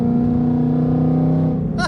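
Engine of a 2019 Ford Mustang GT with BMR suspension upgrades holding a steady, loud drone while taking fast turns, close and continuous, with a brief shift in tone near the end.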